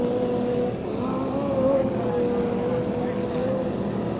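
A small vintage inboard race boat with a Datsun motor roars steadily and loud at a vintage final race, its engine pitch rising and falling slightly as it revs through the turns.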